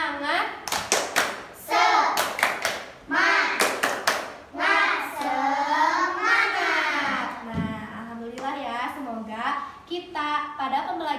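A primary school class does a rhythmic 'tepuk semangat' clap, with bursts of loud, patterned hand clapping mixed with children's chanting voices in a classroom.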